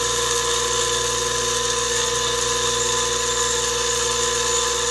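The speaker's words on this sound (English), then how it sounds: "This is a silicon carbide wheel, so I'll grind a flat spot on it." A silicon carbide wheel grinds a piece of petrified wood, making a steady, loud, high whining drone with a constant hum underneath that holds unbroken throughout.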